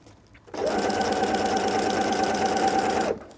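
A sewing machine stitches the side seams of a drawstring backpack, one steady whirring run of close, loud motor hum that starts abruptly and stops after about two and a half seconds, with no talk.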